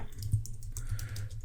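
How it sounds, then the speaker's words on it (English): Someone types a street address into Microsoft Word 2016 on a computer keyboard, producing a steady run of close, crisp key clicks with a low thump under some strokes and no talk. "we're just going to start by typing our address."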